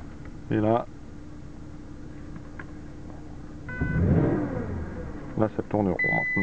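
A repaired Porsche Cayenne engine starts and revs briefly with a mid-pitched growl, settling back under a faint warning beep, while someone talks before and after.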